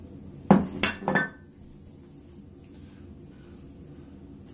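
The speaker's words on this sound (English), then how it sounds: "Of course, our Thirsty Badger Lather Bowl." A Thirsty Badger lather bowl handled on a hard surface, giving three quick ringing clinks in a row, followed by quiet room tone.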